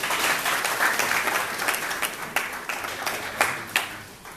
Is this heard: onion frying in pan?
no